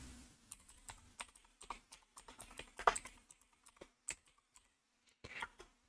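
Quiet, irregular clicks and taps of fingers typing a search into a web browser on a computer keyboard, with short bursts of keystrokes and brief pauses between them, alone and close up.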